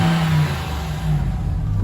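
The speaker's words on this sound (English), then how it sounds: "Let's see if we can hear that supercharger and go crazy real quick." The supercharged engine of a Ram TRX revs briefly at close range, a loud, steady mechanical roar with a high whine riding on top, with no talking.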